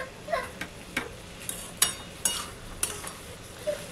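Mustard vegetable curry is stirred and fried in a pan: sharp scraping clicks of a utensil strike the metal at irregular intervals over a soft, continuous sizzle.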